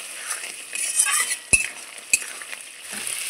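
Spices, turmeric and salt stirred with malabar spinach stems in a frying pan, a close sizzling hiss with a few sharp metal clinks of a spatula against the pan.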